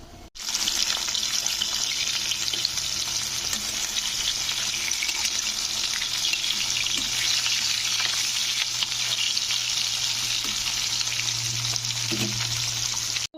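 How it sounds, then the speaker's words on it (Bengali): Roopchand fish frying in smoking-hot oil in a wok, giving a loud, steady, close sizzle and crackle that runs unbroken for the whole stretch with no voices. "তেল থেকে ধোঁয়া উঠলে তারপরে কিন্তু মাছগুলো ভাজা হবে"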